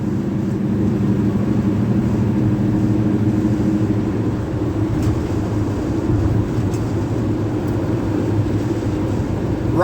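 A 1976 Dodge D100 pickup truck climbs a hill in overdrive, with a steady low engine drone and road rumble heard from inside the cab, continuous and even throughout.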